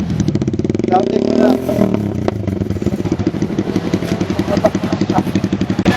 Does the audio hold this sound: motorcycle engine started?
yes